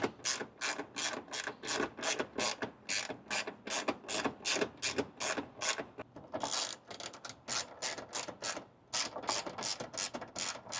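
Ratchet clicking steadily while bolts are tightened during a K&N 77 Series cold air intake install on a 2025 Toyota Land Cruiser 250 turbo; rapid rhythmic bursts of close, crisp clicks with brief pauses, no talking.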